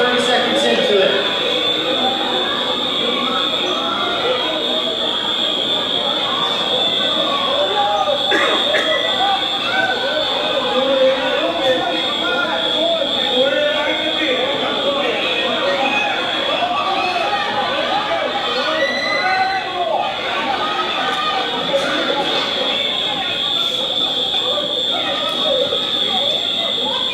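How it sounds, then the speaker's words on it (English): Smoke alarms shriek continuously at a high pitch during an active shooter drill at a school event, sounding loud and unbroken over the murmur of a crowd leaving and scattered movement. "Smoke alarms, 30 seconds into it."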